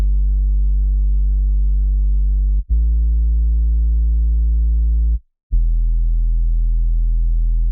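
Deep sub bass synth layer from a three-layer bass stack in a Logic Pro arrangement, a steady loud low tone sustained in long held notes with two brief gaps, no voices.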